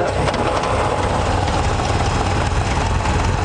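A Triumph TR3 engine cranks over from the starter solenoid and settles into a steady, loud idle, its low rumble continuous and close with no voices.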